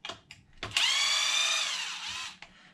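A power screwdriver whirs for about a second and a half, driving a screw back into a bracket on an Arrma RC truck, close and loud with a few clicks before and after.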